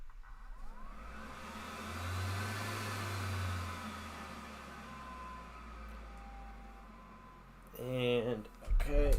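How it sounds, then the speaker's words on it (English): An electric fan switched back on runs loudly as a steady broadband whoosh with a low hum, building and holding for several seconds before a brief squeal and a voice break in near the end. "we're going to turn this fan back on so it's going to be loud for a second"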